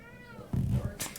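A cat on a diet meows once, a short close meow standing alone with no talk over it, followed by a faint rustle.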